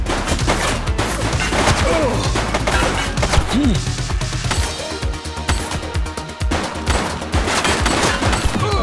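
Near-continuous gunfire in The Precinct video game crackles through a busy action mix of overlapping shots, impacts and game sounds, dense and loud throughout with only brief dips.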